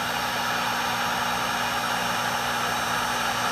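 Heat gun blowing hot air over heat shrink tubing during a QAV250 drone build, a steady, close, even rush of airflow with a low motor hum and no change throughout.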